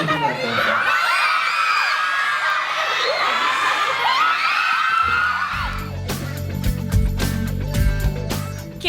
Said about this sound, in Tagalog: Kilig at hiyawan overload ang buong Music Museum